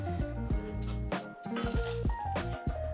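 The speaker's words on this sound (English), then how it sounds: "You're gonna pour the oil out." Cooking oil pours from a steak pan into a glass plate, a run of wet, sputtering glugs and drips close by, with no talk over it.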